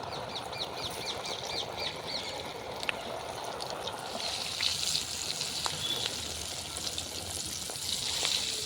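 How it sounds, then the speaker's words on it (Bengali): Pitha cakes of rice, lentil and potato frying in hot oil, a steady soft sizzle and bubbling crackle running throughout, close and moderately quiet, with no talking. "তেলটা গরম হয়ে গেছে, এবার গড়ে রাখা পিঠেগুলো এর মধ্যে দিয়ে ভালোভাবে ভেজে নেব।"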